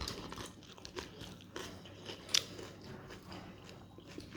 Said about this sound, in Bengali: এই যে খাইতেছি